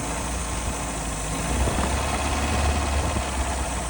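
A turbocharged Mercury Capri engine, left sitting for 23 years, idles roughly with an uneven low rumble and slight swells in loudness, close and steady with no voices over it.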